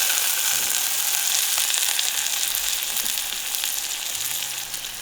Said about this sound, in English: We're going to get some butter in with these onions.